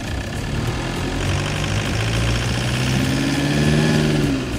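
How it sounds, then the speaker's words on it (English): Heard from the engine bay, a running car engine gives a steady, close mechanical drone, with a tone that rises slightly toward the end and no voices present. "The noises that happen in there when the engine's running and going at full throttle and whatnot"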